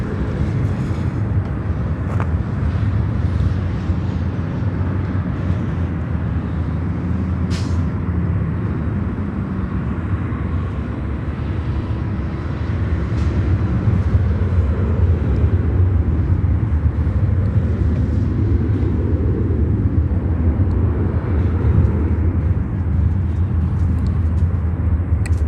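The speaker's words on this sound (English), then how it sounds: "This was American Airlines Flight 161 from Athens in Greece on 9 Center" An American Airlines airliner from Athens lands on runway 9 Center at Chicago O'Hare, a long steady jet roar that swells louder in the second half, heard from a distance.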